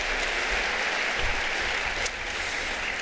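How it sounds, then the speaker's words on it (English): An audience at a business overview meeting claps in sustained, dense applause that holds steady for a few seconds before easing slightly. "So give her a round of applause"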